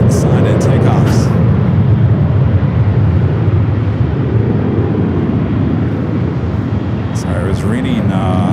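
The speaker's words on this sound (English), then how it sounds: "the Osaka Dreamliner flight heading up for Northside and takeoffs" A Boeing Dreamliner airliner takes off at Los Angeles airport with a steady, loud jet roar and deep rumble throughout, and faint voices are heard at times.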